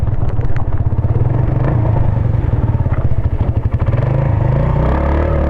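Small, low-powered motorcycle engine labouring up a very steep hill, a loud, close, steady rumbling drone with a rapid throbbing pulse and some rattling, running continuously throughout.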